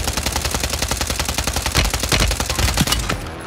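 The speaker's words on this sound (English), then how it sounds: "Oh, he's shooting me out the air." Rapid automatic gunfire in Warzone 3 rattles in dense, loud, close bursts for a few seconds, then cuts off abruptly.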